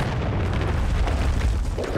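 A cruise missile blast in a Call of Duty match, a dense, loud, continuous rumbling roar held at full strength for about two seconds with no pause.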